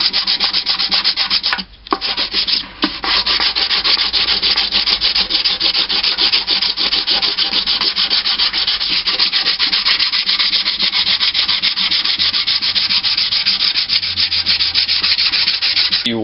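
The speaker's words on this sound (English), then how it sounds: "I'm not really going to sand any lower in this area" Hand sanding of Bondo body filler on an Iron Man helmet makes a close, loud, continuous abrasive scratching with fast back-and-forth strokes, briefly pausing twice near the start.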